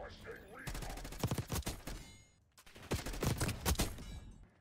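Assault rifle fire in Black Ops 6 comes in two rapid, loud bursts of shots separated by a short lull, with a faint game backdrop and no speech.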